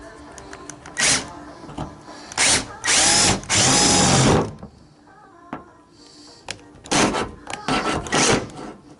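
A power drill biting through thin car body metal on an R33 GTST while fitting a carbon fibre GT wing, several short whining bursts separated by pauses and light handling clatter.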